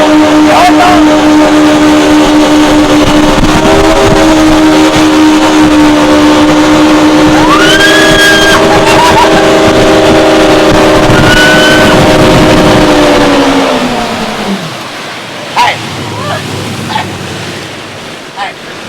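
A 2008 Yamaha SX230 High Output boat speeds across open water with a loud, steady engine drone, wind buffeting and spray, then the engine note drops away and the hull slows near the end.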